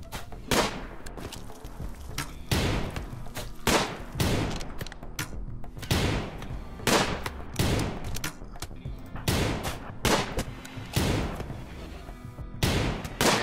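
Gunfire in the colony sim RimWorld, a series of loud separate shots and thuds spaced irregularly about a second apart, each with a sharp attack and short decay, with no talk.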